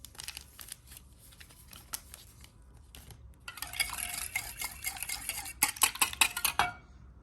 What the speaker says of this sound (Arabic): نحركوا هادشي شويه